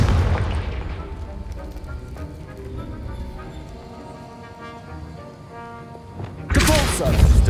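Confringo spell explosion in Hogwarts Legacy, a sudden loud fiery burst near the end that follows a quieter stretch of spellcasting hum and low rumbles.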